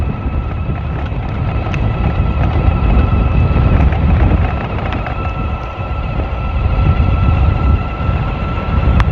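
Wind buffets hard against the microphone while riding a Tamobyke TB20 electric bike at about 30 miles an hour, a loud, continuous roaring rush that surges and eases.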